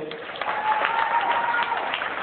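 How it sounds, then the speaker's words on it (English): Audience applause at a school Interact Club event at Nyakasura School, a sustained patter of many hands clapping, slightly muffled, with a faint voice or tone running underneath. "Please clap for them."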